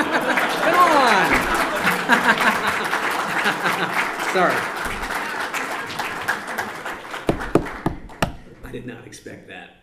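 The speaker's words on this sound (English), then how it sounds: "Can somebody applaud?" Applause rises from a convention keynote audience, dense and steady for several seconds, then thins into scattered claps and a few loud close hand strikes. A speaker's voice runs over it, and brief chuckles come through.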